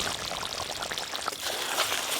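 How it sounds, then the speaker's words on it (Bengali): Ghee poured into a simmering gravy, a steady close, bright pouring and sizzling wash that runs continuously without pauses, no voices over it. "আর দেব ঘি।"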